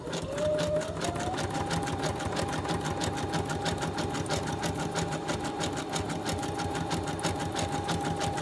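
A sewing machine stitches a wide zigzag in a fast, continuous mechanical whir with a steady needle rhythm, close and fairly loud throughout.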